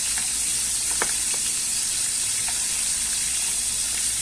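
Wet fish frying in hot oil, a steady loud sizzle with occasional sharp pops and spatters close by, no talking.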